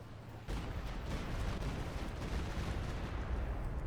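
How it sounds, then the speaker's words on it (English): An artillery barrage in the World War II strategy game Company of Heroes 2 fills the scene with a dense, continuous rumble of distant shelling and blasts that suddenly swells to full loudness and holds steady. "And go Stuggers using a barrage."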